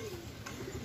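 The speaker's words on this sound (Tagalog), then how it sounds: "May mga ibon ang dumadating" Racing pigeons arrive at the loft during a fun race, giving soft low cooing over a steady background hum for a brief moment.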